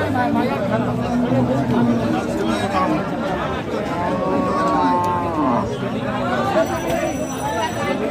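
A dairy cow mooing at a rural cattle market, long low calls rising over a steady babble of nearby crowd chatter and bargaining voices.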